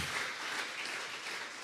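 A congregation at a Sunday church service gives a round of applause to God, dense steady clapping from many hands heard from a distance, fairly faint and unbroken.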